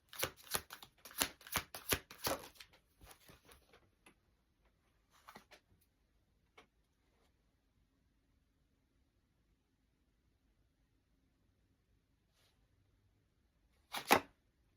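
Tarot cards shuffled in a quick burst of crisp riffling flutters over the first few seconds, a few softer slides and taps of cards being drawn, then quiet until one more short snap near the end.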